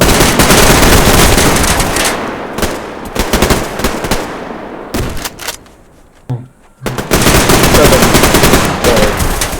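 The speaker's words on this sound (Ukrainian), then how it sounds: "з аномалії снайпер стріляє" Loud bursts of rapid airsoft gunfire crack and rattle in long volleys during a battle, broken by brief pauses and sharp single shots, close to the microphone.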